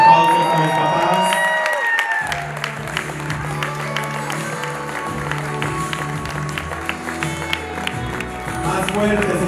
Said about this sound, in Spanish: Fuerte aplauso a los papás.